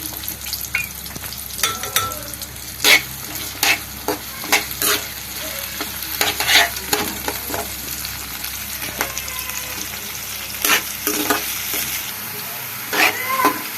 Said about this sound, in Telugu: ఇప్పుడు ఒక బాండీ పెట్టుకొని 3 టేబుల్ స్పూన్ ఆయిల్, ఆనియన్ వేసుకుందాం.